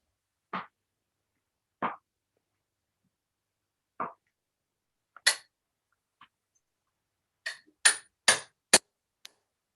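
A hammer strikes a metal punch set in a doming block, about ten separate ringing taps spaced unevenly, the later ones brighter and quicker, with no talk.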